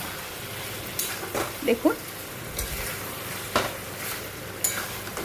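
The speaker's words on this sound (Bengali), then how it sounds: "এটা দিয়েও আবার ভালো করে কষে দেব। কষাটা চলতে থাকবে, সুন্দর করে কষে নিচ্ছি।" Raw jackfruit curry with yogurt and tomato paste sautéing in a pan, a soft continuous sizzle with intermittent spoon scrapes and clinks, close up, while someone speaks briefly over it.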